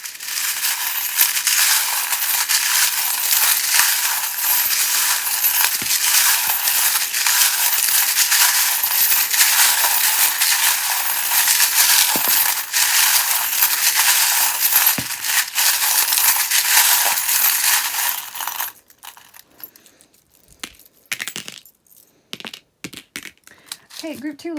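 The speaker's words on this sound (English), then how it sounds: "if you don't like the sound of charms being shuffled, just turn down the volume" Tarot charms shuffled in a steady, dense metallic jingling and clattering that runs loud and continuous for about eighteen seconds, then breaks into a few scattered clinks and small knocks near the end.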